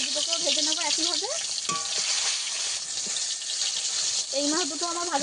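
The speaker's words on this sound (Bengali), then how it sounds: "দুটো মাছ আছে, এই দুটোকেও ভেজে নেবো একইভাবে।" Pieces of bhola fish crackle in hot oil, an even, fizzing sizzle throughout, while someone speaks over it at the beginning and again near the close.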